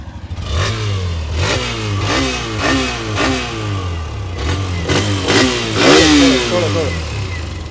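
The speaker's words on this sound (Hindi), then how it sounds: "hero extreme one twenty are का आप लोग साउंड सुन लें" A Hero Xtreme 125R motorcycle engine revs repeatedly close up, rising and falling in pitch through several throttle blips over a steady idle, loud and continuous with faint voices in the background.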